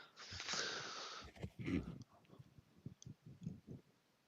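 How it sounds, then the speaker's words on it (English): A harsh, raspy throat clearing up close, followed by a few softer short grunts and breathy sounds. "Clearing my throat"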